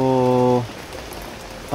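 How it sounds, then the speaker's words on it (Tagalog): Heavy rain pattering and hissing steadily on surfaces outdoors near a river, heard after a short steady tone fades out in the opening moment. "pahinain lang muna natin yung ulan konti kasi malakas"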